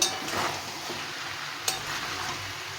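Malabar spinach curry stirred in a pan with masala, a steady hiss of frying with soft scraping strokes and one sharper utensil tap, close and continuous, no voices.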